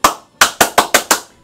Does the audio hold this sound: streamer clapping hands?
yes